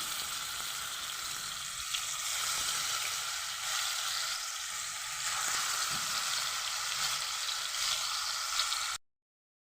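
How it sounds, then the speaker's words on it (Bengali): Fish frying in hot oil in a kadai makes a steady, fairly quiet sizzle that runs close and unbroken for about nine seconds before cutting off abruptly. "তেলটা গরম হয়ে গেছে মধ্যে দিয়ে দিচ্ছি আমি"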